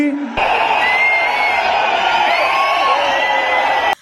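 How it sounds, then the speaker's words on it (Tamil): Crowd at a BJP political rally in Tamil Nadu cheering and applauding: a loud, dense, sustained roar of shouts and clapping that starts suddenly and cuts off abruptly after about three and a half seconds. "அண்ணாமலையோட பெயரை சொன்ன போது எழுந்த கைத்தட்டல் அடங்க நேரமாயிருச்சு"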